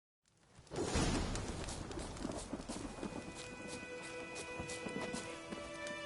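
Hooves of the horse Roach in The Witcher 3 rise from silence into a steady galloping clip-clop, close and continuous, with whooshing movement and music-like tones layered over the rhythm.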